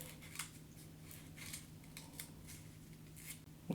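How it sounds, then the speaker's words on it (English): Soft, quiet snipping and rustling repeats at an uneven pace, like scissors slicing through paper, with a low steady hum underneath. "you might want some scissors here"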